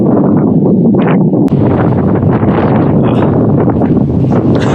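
Strong wind roars at the Mizdakhan necropolis in Karakalpakstan, a loud, constant low buffeting rumble battering the microphone with no break.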